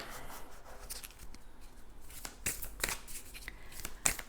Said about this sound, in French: Je vais vous tirer une carte de Tao.